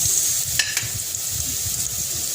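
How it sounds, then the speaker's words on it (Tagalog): Garlic, a whole head's worth of cloves, sautéing in a pan for chicken hinalang, giving a steady close sizzle and frying hiss with a couple of brief stirring clinks early on. "Gisahin natin yung garlic."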